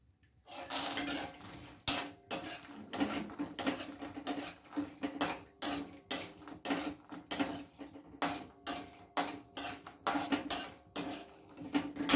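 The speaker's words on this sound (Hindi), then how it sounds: "सबसे पहले बादाम को हम इसी घी में, कढ़ाई में बादाम डालेंगे।" Almonds fry in ghee in a kadai while a spoon stirs them with rhythmic scraping and clinking strokes, repeated steadily over a soft sizzle, close up and without speech.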